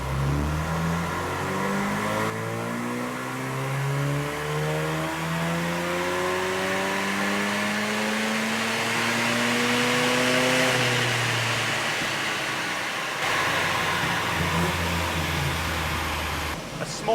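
Mazda RX7 rotary engine on a dyno pulling one long run, revs climbing steadily and loudly for most of the stretch before dropping back and rising again near the end.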